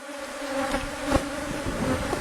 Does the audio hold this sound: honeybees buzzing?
yes